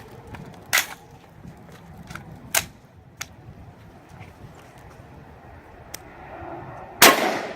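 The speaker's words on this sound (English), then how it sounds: "Our second shot is going to be with a 55 grain full metal jacket" A .223 rifle fires 55 grain full metal jacket rounds at a steel panel, giving a few sharp, isolated cracks spaced seconds apart, the last one the loudest and brightest, with no talk.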